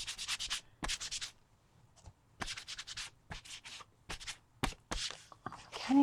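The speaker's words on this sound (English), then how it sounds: "you're just kind of rubbing it in." Paint is rubbed by hand into a faux leather journal cover, making close, dry scrubbing strokes in short repeated bursts separated by brief pauses.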